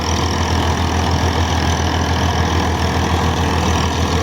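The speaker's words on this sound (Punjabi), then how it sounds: "ਫੋਰਡ 4000 ਟਰੈਕਟਰ ਆ 52 HP ਦਾ ਟਰੈਕਟਰ ਆ ਜੀ ਇਹ" A 1971 Ford 4000 tractor with a 52 HP diesel engine, fitted with a 48-blade rotavator, runs at a steady, loud, close-up drone with an even low rumble throughout and no talking.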